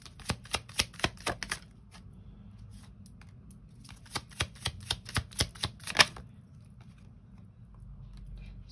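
Tarot cards shuffled by hand in two quick bursts of crisp riffling clicks, separated by a short pause, close and fairly quiet with no talking.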